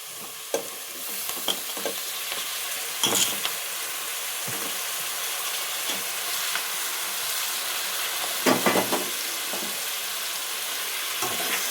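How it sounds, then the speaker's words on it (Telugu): Tomatoes fry in a hot pan for egg curry, giving a steady, loud sizzle and hiss with the scrape and clatter of a spoon stirring through them at irregular intervals, and no talking. "టమాటాలు వేసేద్దాం ఇప్పుడు. టమాటాలు మొత్తం వేసేయాలి."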